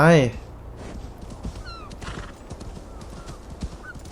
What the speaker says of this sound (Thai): ขี่ม้าไปก็ดีว่ะ